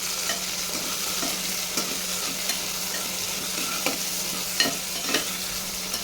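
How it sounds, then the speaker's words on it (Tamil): Tomato and a handful of mint leaves fry in a pan, giving a continuous sizzling hiss with soft scraping strokes as a spoon stirs them through. "சேர்த்துட்டு நல்லா ஒரு தடவை மிக்ஸ் பண்ணி விட்டுக்கலாம்."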